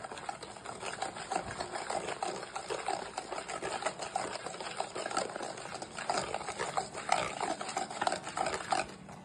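Mashed banana pulp is worked into chocolate cookie dough in a bowl, producing continuous wet squelching, scraping, and stirring noises at close range with no talking.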